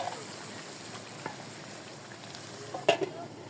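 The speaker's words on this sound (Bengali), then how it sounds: "আস্তে আস্তে এইভাবেই লেড়ে লেড়ে কষিয়ে নিব" Duck curry sizzles steadily in a pan, a soft, even frying hiss with a few faint scrapes and a sharper clink near the end as it is stirred.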